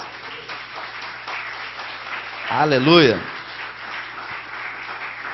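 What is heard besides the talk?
church congregation applauding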